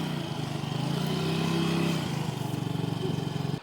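A motorcycle engine idles and runs steadily at close range with a rough, pulsing mid-pitched drone, no talking, parked near the Hoa Lu citadel in Vietnam.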